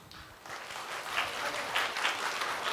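Congregation applause during a Sunday church service as a special guest is welcomed, a soft, steady patter of many hands clapping from across the room, fairly faint.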